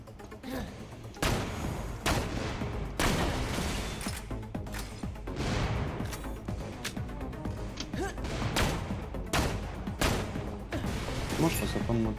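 Cannon fire in the shooter game Borderlands: The Pre-Sequel, a run of loud booming blasts at irregular intervals over a continuous busy game soundscape.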